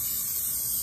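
Cooking spray hisses onto a pancake pan in one short, close, continuous burst lasting under a second.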